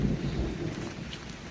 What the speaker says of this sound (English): A little bit of thunder in the background.